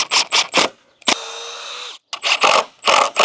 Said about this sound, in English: And now we're just gonna screw them in.